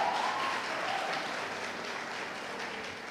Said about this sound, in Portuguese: Dá um aplauso aí, olha